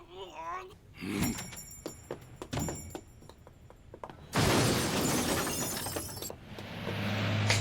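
A door in an anime scene being kicked in and broken, with sharp impacts followed by a loud, sustained crash of splintering and shattering debris, while people talk over it.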